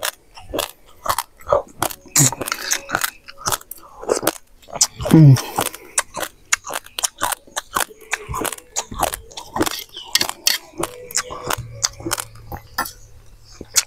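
Dry raw rice crunched and chewed up close, paired with Coke, giving a rapid series of sharp, crisp bites and crackles with brief pauses between, loud and intimate.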